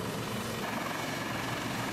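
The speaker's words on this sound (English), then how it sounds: "the helicopter will land and strap to the flight deck, but it will not shut down the engine" A Portuguese navy helicopter sits on a Danish ship's flight deck with rotors still turning during refueling, giving a steady, dense whir and engine roar that fills the whole stretch without a break.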